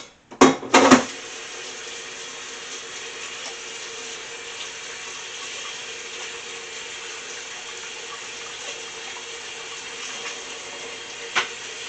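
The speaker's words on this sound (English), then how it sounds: "Let me wash my hands real quick" Tap water runs steadily into a kitchen sink while hands are washed after handling raw meat for meatballs, a constant hiss with a few sharp clatters near the start and one brief knock near the end.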